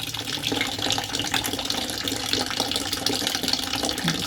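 Water draining from a laser machine's coolant tank, a continuous splashing, gushing pour that stays steady and fairly close throughout.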